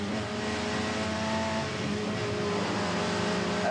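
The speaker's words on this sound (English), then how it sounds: "There we see the Metro Cosworth of Bill Richards again" Racing cars including a Metro Cosworth at Lydden Hill circuit, loud engines revving and droning continuously with shifting pitch as cars accelerate past, dense and unbroken with no voices.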